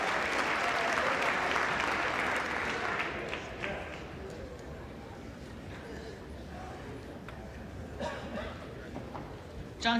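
Applause fills the U.S. House chamber after a speaker vote, loud at first and then thinning into scattered clapping, with voices talking over it.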